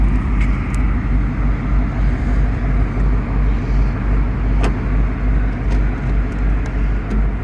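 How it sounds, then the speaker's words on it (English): A 2024 Ford Mustang GT Premium with a 5-liter V8 rumbles steadily at idle, its loud, deep exhaust droning continuously with no talk over it. "Some exhaust action from that 5-liter V8."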